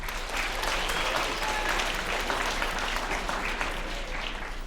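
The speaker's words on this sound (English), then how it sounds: "Let's give a round of applause beforehand." Sustained audience applause during a school writers' week reading, a dense, loud wash of many hands clapping continuously throughout, with no voices on top.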